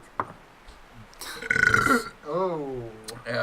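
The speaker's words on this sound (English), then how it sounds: "Burp." A single drawn-out, loud burp rumbles for about half a second, followed by a short expressive voice, with faint noises before it.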